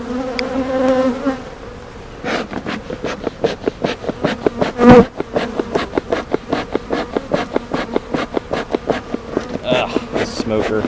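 Honey bees buzz around opened beehive frames during a hive inspection, a close, loud droning hum with pulsing wingbeat texture, joined by a brief knock of wood against wood midway.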